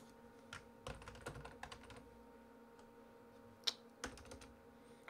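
Someone taps on a computer keyboard in quick irregular bursts while playing Football Manager 2015, with soft close clicks, brief pauses and one sharper keystroke, over a faint steady hum.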